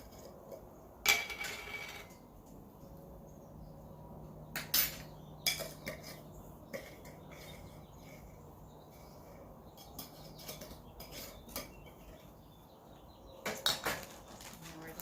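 Seasonings for chicken, including ground mustard, are mixed in a dish with scattered clinks and taps of utensil against bowl, separated by quiet gaps and faint birdsong.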